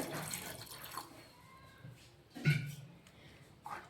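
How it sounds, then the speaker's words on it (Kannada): Water splashes into a metal pressure cooker holding chickpeas in a few short, quiet bursts, with soft clinks and drips between them. "ನೀರು ಹಾಕ್ಬೇಕ್ರಿ."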